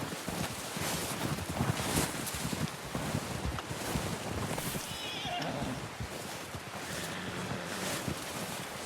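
A horse in Red Dead Redemption 2 whinnies amid clip-clopping hooves and a steady wash of wind and outdoor ambience, the neigh sitting mid-level within the game soundscape with no speech over it.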